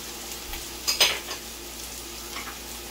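Shallots and celery hit a hot pan with a brief burst of sizzling and a stir, then settle into a quiet, steady fry.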